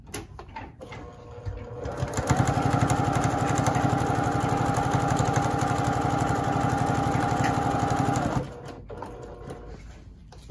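A sewing machine runs steadily for several seconds while stitching a quarter-inch seam on a boot quilt block, its fast rhythmic whir close and even from start to stop, with no voices.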